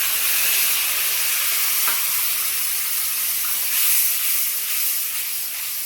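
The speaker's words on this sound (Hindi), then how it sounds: "अब ये प्याज फ्राई हो गई है गोल्डन ब्राउन। अब मैं इसमें ये मसाला डाल दूंगी।" Masala frying in oil with golden brown onions gives a loud, continuous hiss and sizzle close by, with a faint clink of stirring partway through and no voices.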